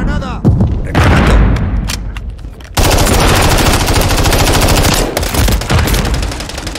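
Loud, dense gunfire with a grenade blast in Call of Duty Modern Warfare III, sharp rapid shots followed by a heavy sustained burst of firing and explosions.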